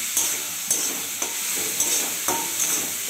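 Pieces of stingray fish fry lightly in a pan, a constant bright sizzle broken by regular stirring scrapes roughly every half second, close and steady with no talk.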